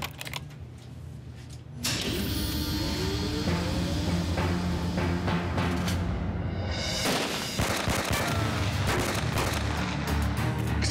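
Gunfire in a mine, heard as a run of sharp bangs and booming reports echoing through an enclosed space over a steady rumbling background, moderately loud and continuous.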